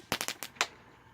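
Fourth of July fireworks going off outdoors: five sharp crackling bangs in quick uneven succession over about half a second, the last one a bit louder, with no talking.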